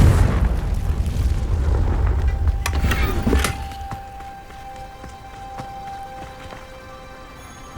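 Confringo explosive spell in the Hogwarts Legacy video game: a deep, rumbling blast that roars for about three seconds, with crackling bursts inside it, then dies down to a low game ambience with faint tones. No one speaks.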